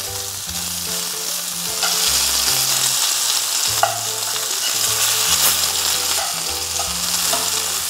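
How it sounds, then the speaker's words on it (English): Lamb pieces for Hungarian goulash sear in a hot pan, giving a loud, continuous sizzle with a few sharper pops and clinks as they are turned; no talk. "Now we'll turn the lamb on the other side."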